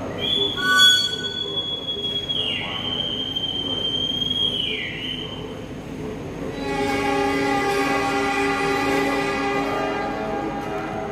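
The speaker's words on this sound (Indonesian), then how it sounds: "Kereta api Pangandaran diberangkatkan dari stasiun Cibatu." The Pangandaran passenger train departing Cibatu station in Indonesia, a long high wheel squeal rising and wavering, then a horn blast and rolling rumble as it moves off nearby.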